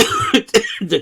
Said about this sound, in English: I gotta stay with this little cough here